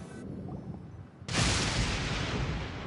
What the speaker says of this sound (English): What did I tell you? That thunder's loud.